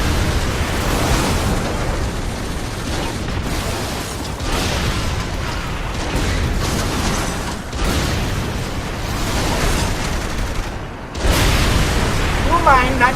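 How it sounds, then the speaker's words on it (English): Explosions in the video game Saints Row 3, with a tank in the fight, give continuous loud booming and crackling blasts with several sharp bursts, heard under excited talk by players. "Explosives everywhere."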